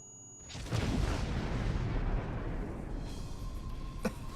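A single explosion booms out in the Star Trek Online video game, a sudden loud blast that rolls into a rumbling, slowly fading roar lasting several seconds.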